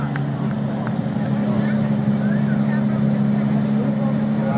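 A 1998 Lamborghini Diablo V12 idles at an outdoor concours car show, a steady low engine drone under a faint murmur of crowd voices.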